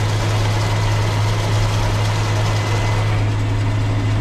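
A tractor engine runs steadily while spreading lime on a still partly frozen field, a close, constant low drone with a strong rumbling hum and no breaks or speech.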